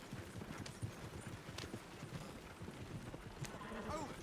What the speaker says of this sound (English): Esse cavalo que acelera